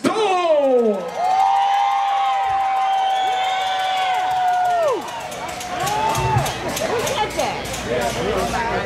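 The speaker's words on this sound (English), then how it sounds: "make some noise. Let me hear you scream." A concert crowd cheers and screams in a live venue, loud and sustained, while a voice over the sound system holds a long drawn-out note and calls out above the noise.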